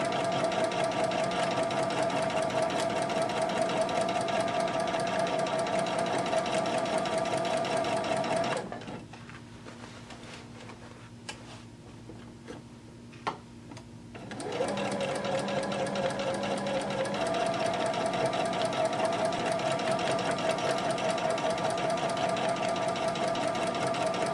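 Sewing machine stitching horsehair braid onto the hem of a print skirt, a steady close whirring run that stops for a few seconds of near quiet with small handling taps, then starts up again and runs on.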